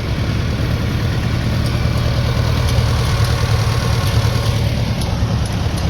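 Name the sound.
Case tractor engines idling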